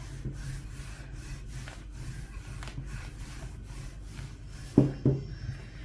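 Rolling pin working thin egg dough sheets for Turkish su böreği on a board, repeated soft rolling and rubbing strokes at close range, with a couple of sharper knocks near the end.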